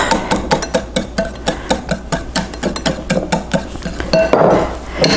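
Canola oil goes into a salad dressing while a whisk beats rapidly against the bowl, making a quick regular clicking rhythm that swells slightly toward the end.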